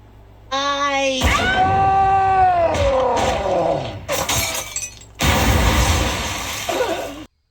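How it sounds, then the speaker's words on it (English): Cartoon glass shatters in a loud burst amid a chaotic animated scene, preceded by a long wailing, cat-like yowl and followed by a sustained crash of breaking glass, loud and close. "Breaks the glass, snot gets out"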